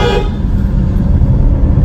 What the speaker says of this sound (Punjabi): ਇਹਦਾ ਹੌਰਨ ਮਾਰ ਸਕਦੇ ਆਪਾਂ ਇੱਥੋਂ